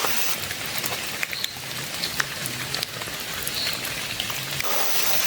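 Heavy rain falls steadily on a hillside trek to Kunda Betta in Kodagu, a dense, continuous hiss with scattered drops hitting nearby surfaces.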